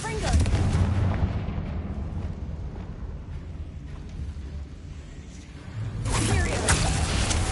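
A Confringo fire blast spell cast in the Hogwarts Legacy video game, heard as a loud, booming, explosive burst that rumbles through the clip, with a second crackling blast swelling near the end.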